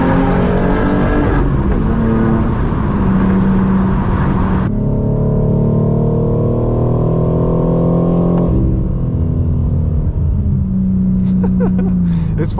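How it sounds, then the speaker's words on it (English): A straight-piped BMW M4 G82 accelerates with its exhaust valves closed, a loud close engine note rising through repeated gear pulls with brief drops between shifts, no talk. "It's fun accelerating with the valves closed because this thing is so loud when they're open."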